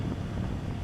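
Wind buffets a helmet-mounted microphone on a rider picking up speed, a steady close-up broadband rush and rumble with no voices.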